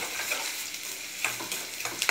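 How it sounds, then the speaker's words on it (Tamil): Onions and green chillies sauté in hot oil for a broccoli egg poriyal, making a continuous soft sizzle with a few stirring clicks and pops near the end. "ஆனியனை போட்டு நல்லா எண்ணெயில் நல்லா வணக்கணுங்க"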